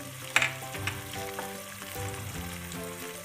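Curry leaves and turmeric fry in hot oil with a soft, continuous sizzle. A few brief clinks and spoon scrapes sound over a low background hum, and no one speaks.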